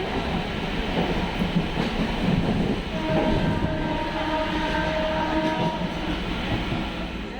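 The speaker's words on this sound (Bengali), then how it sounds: "ট্রেন চলে আসবে দেখো" A train rumbles into a railway station near Howrah, a broad low rolling roar of railcars with a faint sustained tonal whine or brake squeal rising midway, close and steady, no talk.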